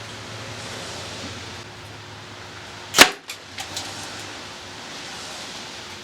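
A Deer Crossing arrow strikes a quarter-inch plywood board with one sharp, loud crack, followed by a few smaller clattering knocks as pieces settle, all against a quiet outdoor hiss.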